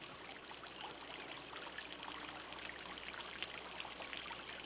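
Water flows and trickles steadily through a film scene, a continuous soft babbling that stays even throughout with no voices.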